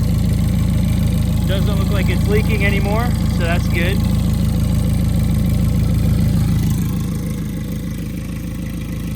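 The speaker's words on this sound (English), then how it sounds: "All right, so I got the car on." Ford Fiesta ST engine idling after coolant and oil system work, a steady close rumbling idle that drops slightly near the end, with someone talking over it briefly.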